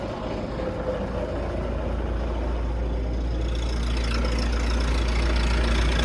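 A combine harvester engine idles at low revs with a steady, heavy, low rumble and a faint rattle. It runs close and unbroken, with no voices.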